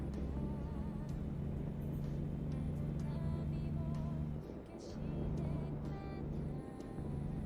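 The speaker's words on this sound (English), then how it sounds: "I like the sound of cars on snow." Truck driving on snow in American Truck Simulator, a steady low engine drone with a muffled rumble of tires, briefly dipping mid-way before resuming, continuous and close.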